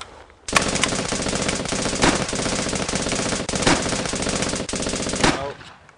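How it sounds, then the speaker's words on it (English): Sustained machine gun fire downrange during basic training in a video game, a loud continuous rapid rattle of shots lasting several seconds with a few heavier reports, ending with a brief clink of a spent magazine. "Now fire a clip downrange."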